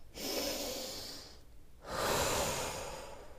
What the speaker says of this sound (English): every time you go up your finger, you breathe in through your nose